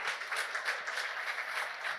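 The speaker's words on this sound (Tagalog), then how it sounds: "Come on, palakpakan natin si Lord." A church congregation claps together in steady, brisk applause, a close and even patter of many hands with no talk over it.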